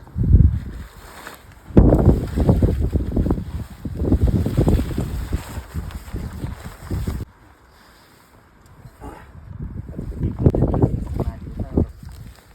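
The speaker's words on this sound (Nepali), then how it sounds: "यस्तो हावा चलिरहेको छ नि।" Strong gusts of wind buffet and rumble in surges, easing into a lull before blowing hard again.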